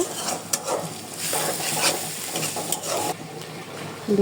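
Pabda fish masala with ginger-garlic paste, turmeric, chilli, salt and coriander powder fries in a pan, giving a close sizzle broken by sharp scraping stirs and light clinks of the utensil against the pan.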